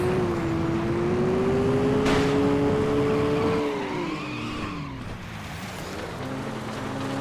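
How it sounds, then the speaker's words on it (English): Car tyres squeal in the racing video game FlatOut, a sustained tonal screech that bends and shifts pitch over several seconds, steady and fairly loud against continuous engine and road noise, with no talking. "you're hearing a lot more tyre squeals when you're not braking with ABS"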